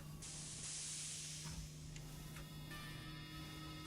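Steam vents in the video game Shadow Man Remastered let out a loud, continuous hiss that starts abruptly and holds steady over a low electrical hum, with faint clicks partway through.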